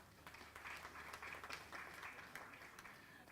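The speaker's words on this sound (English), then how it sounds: "Please give her a warm round of applause" Audience applause for a speaker at a gender equality event, a faint but continuous patter of clapping heard from a distance.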